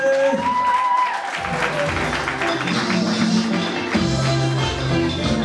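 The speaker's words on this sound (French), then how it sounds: "On peut applaudir très fort pour les mariés" Wedding guests at a civil ceremony applaud the newlyweds, a steady wash of clapping from a crowd close by, with voices talking over it and a brief cheer near the start.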